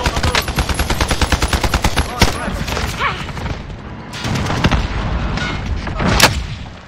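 Heavy automatic gunfire in Call of Duty Modern Warfare's Warzone mode, a fast rattling burst up front, then louder scattered shots and a couple of booming blasts, with a sharp report near the end.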